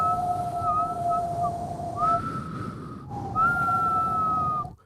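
A person with a weak whistle tries to whistle, producing two long, steady, breathy tones with a short gap between them, close and alone over faint room hiss.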